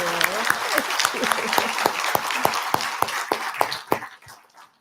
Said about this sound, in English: give Cassie a little applause for this presentation